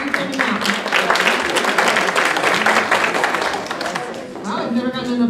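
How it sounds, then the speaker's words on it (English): Audience applause at an evening public forum, dense continuous clapping from a room full of people that stays steady for several seconds before thinning slightly near the end. "Wow, I've never gotten an applause for starting on time."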